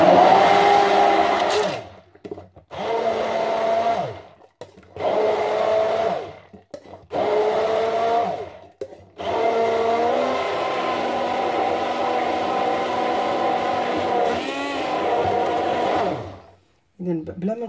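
Electric blender whirring in repeated bursts as it mixes homemade mayonnaise, several short pulses followed by a longer continuous run, loud and close, with brief pauses between and a voice speaking near the end.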